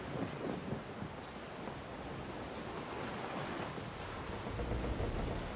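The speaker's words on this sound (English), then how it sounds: "The Defiant creaks as it crosses the waves." Continuous ocean waves wash against the hull of the ship Defiant at sea in Pillars of Eternity 2, a steady broad rumble with low surges and no clear creaks standing out, no voices.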